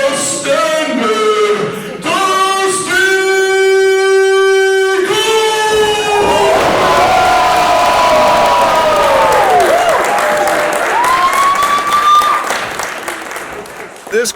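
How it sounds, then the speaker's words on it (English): A wrestling crowd at a live Monsters and Men event in Fayetteville, Arkansas roars and cheers loudly and continuously, with whoops and shouts swelling across the hall and a ringing tonal effect near the start. "This crowd is going crazy."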